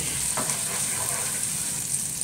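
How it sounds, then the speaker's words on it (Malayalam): Ginger, garlic and green chilli sautéing in hot oil while making chicken biryani, giving a steady, close sizzling hiss with faint stirring, no voices. "ഇഞ്ചിയുടെയും ഈ പച്ചമുളകിൻ്റെയും വെളുത്തുള്ളിയുടെ ഒക്കെ പച്ചമുളക് ഒന്ന് മാറുന്നിടം വരെ നമ്മളൊന്ന് വഴറ്റണം"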